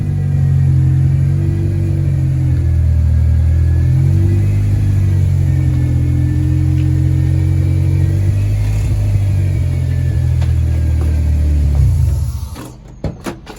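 A Honda EG Civic engine idles loudly and steadily up close for about twelve seconds, a constant low rumble, then cuts off, leaving a few sharp clicks and knocks.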